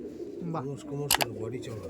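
A Madras pigeon coos in low, rolling notes, close by, with a couple of sharp bright bursts and some background voice-like murmur.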